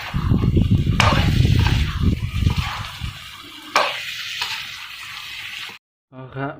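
Eggs frying and being stirred in a hot pan, sizzling with scraping and clinking of a utensil, a few sharp knocks, then a brief silence before a voice speaks at the end.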